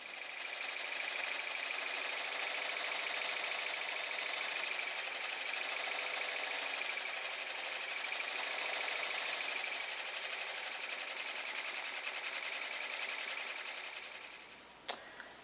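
A computerized embroidery sewing machine stitches a monogram onto a cap clamped in a hoop, giving a steady, fast, continuous mechanical whir and clatter with no talking, ending in a few clicks as it stops.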